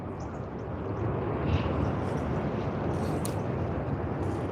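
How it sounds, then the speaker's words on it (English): Air New Zealand Boeing 787-9 Dreamliner thrust reversers roaring after landing at Sydney Airport, a steady broad distant rumble of jet engine noise that holds evenly throughout with no talk. "I can hear the thrust reversers, and we should be able to see it anytime soon."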